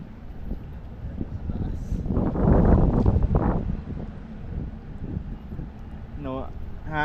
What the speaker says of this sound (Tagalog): hangin talaga, malakas yung hangin po sa taas